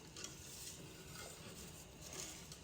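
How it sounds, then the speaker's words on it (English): Pectin being stirred into blueberry jam in a pot, a faint continuous scraping and swishing with a soft sizzle-like hiss, quiet and steady without talking. "So now I'm just gonna stir this pectin in"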